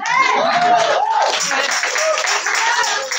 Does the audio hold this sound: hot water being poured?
no